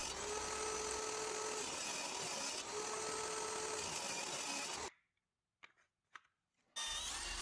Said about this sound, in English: I'm drilling pocket screw holes in the face frame